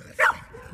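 A single short, loud dog bark sounds close by, with a faint murmur of background noise afterward.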